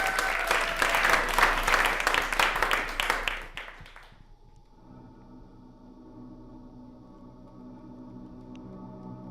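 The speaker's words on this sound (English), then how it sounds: "Can we give him a big round of applause?" An audience applauds for Conor at an outdoor Alaska Originals performance, a dense burst of clapping lasting about four seconds before cutting off to quiet background hum.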